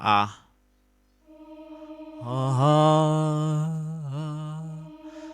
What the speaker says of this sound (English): this is called a choir sound